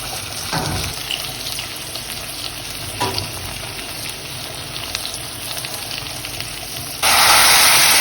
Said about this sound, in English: saute till the onions become translucent